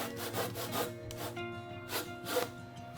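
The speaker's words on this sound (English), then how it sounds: "I prefer using a fine handsaw for delicate cuts to avoid damaging the exposed pillar" A fine handsaw cuts a notch in an exposed wooden pillar, rhythmic back-and-forth rasping strokes about twice a second, close and clear with no voices.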